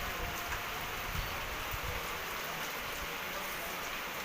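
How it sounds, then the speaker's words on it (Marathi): Steady, dense rainfall hissing continuously, with occasional heavier patters close by. "मोठा पाऊस पडत आहे बघा"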